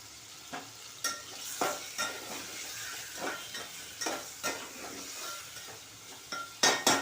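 Prawns stirred and fried in a pan over high flame: continuous sizzle broken by repeated scraping stirs at an irregular pace, close and fairly quiet.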